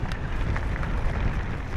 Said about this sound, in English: It's pretty windy up here, it's just rained for a bit